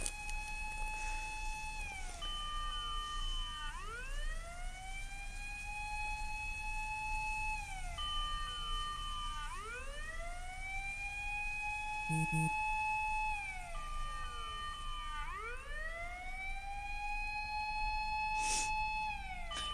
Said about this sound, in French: Mais du coup, c'est bien la sonnerie de l'ambulance,